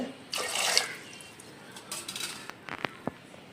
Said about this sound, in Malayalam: 2 ഗ്ലാസ് വെള്ളം ഒഴിച്ചു കൊടുക്കാം വേവാൻ വേണ്ടിയിട്ട്